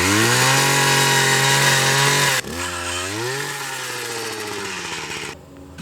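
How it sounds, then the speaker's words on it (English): Powered post hole auger on a fence build, engine droning loud and close, then dropping in pitch as it loads up while drilling into dirt, fading near the end. "fire this bad boy up, start drilling"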